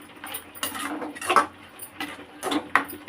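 Ground paste being stirred into a raw banana ball gravy in a pan, with a few distinct clinks and scrapes of a spoon against metal, close-up and in an uneven rhythm.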